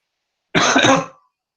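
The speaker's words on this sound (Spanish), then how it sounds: "Tapate la boca para toser." A single short, harsh cough, close and loud, lasting about half a second.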